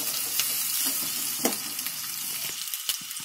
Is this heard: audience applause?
no